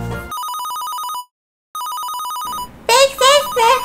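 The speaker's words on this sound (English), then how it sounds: "Big sister, the phone is ringing again." Telephone ringing, two electronic trilling rings separated by a short silence, loud and close, followed by someone speaking.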